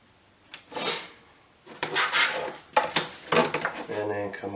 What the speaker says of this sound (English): We're going to take our X-Acto knife.